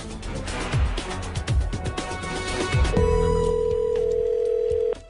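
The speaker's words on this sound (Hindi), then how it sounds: "फोन बज रहा है मैन।" A telephone rings with repeated bell tones, starting under busy background noise and then holding a long steady tone near the end. A voice is briefly audible.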